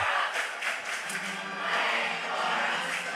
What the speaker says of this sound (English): The crowd's excited, chanting Blake's name.